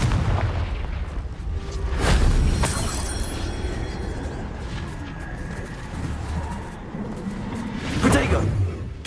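A Confringo fire spell explodes during Hogwarts Legacy combat, with booming blasts near the start and end over a continuous rumbling battle din, no speech in between.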